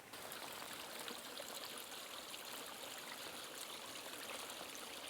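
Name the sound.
water flowing out of pond overflow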